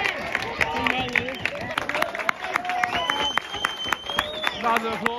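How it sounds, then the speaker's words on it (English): Spectators at a non-league football derby between Bootle and City of Liverpool clap and applaud in a loose burst, mixed with crowd chatter, shouts and nearby voices talking over it. "Round of applause for Ben Hodkinson"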